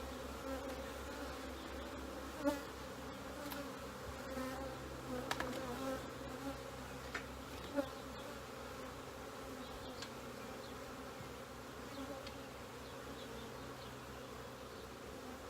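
Honey bees buzzing around an open hive during an inspection, a steady quiet drone of many insects with a few louder passes of single bees close by.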